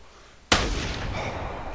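A single loud rifle shot fired at a grey wolf in theHunter video game, with a sharp onset followed by a long, rolling echo that fades slowly after the blast.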